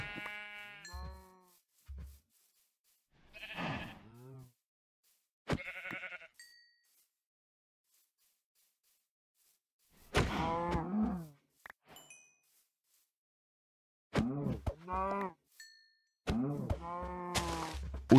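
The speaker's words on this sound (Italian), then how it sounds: "Vedo una pecora, mi sa che ne ucciderò alcune per prendere della lana." Minecraft sheep bleating repeatedly in short, wavering calls, with several separate bleats spread across the stretch, some near and loud, alone with no talk and brief game sounds between.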